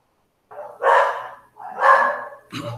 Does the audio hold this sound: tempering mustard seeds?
no